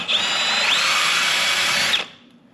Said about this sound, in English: we are drilling this hole out to fit our bigger bolt that goes through